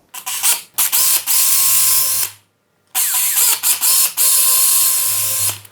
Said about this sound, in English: we're going to try and keep this as straight as possible and drill our top and bottom hole